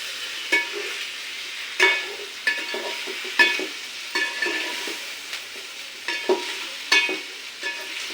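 Chicken curry stirred in a pot over a village-style wood fire, a spoon scraping in several distinct strokes over a low steady sizzle, close and clear with no talking.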